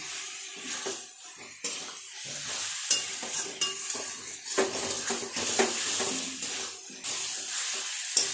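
Potatoes sauté with spice masala in a pan for a katla fish kalia, a constant sizzling hiss mixed with frequent scraping and clattering of a spoon stirring against the pan, close and steady.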